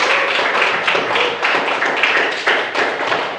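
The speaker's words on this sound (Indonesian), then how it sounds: "Tepuk tangan kelompok 1." A classroom of students applauds a group after its presentation, a busy stretch of rapid overlapping claps and taps, loud and near, with rhythmic accents and almost no talk.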